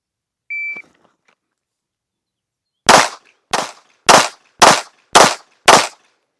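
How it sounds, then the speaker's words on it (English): A shot timer beeps once, then after a pause six handgun shots ring out at an outdoor range aimed at a 10-yard target, loud and sharp, spaced roughly half a second apart. "First shots of the day."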